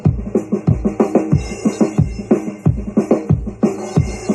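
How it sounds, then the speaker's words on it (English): Drums pounding a steady beat with a hollow, boomy processed character, kick and snare echoing as though inside a tunnel, loud and continuous. "you can hear that drum tunnel going."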